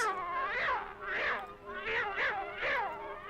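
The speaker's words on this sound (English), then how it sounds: "Poor cat." A cartoon cat caterwauls in four or five drawn-out, wavering meows that rise and fall in a steady rhythm, loud and close, with nothing else heard.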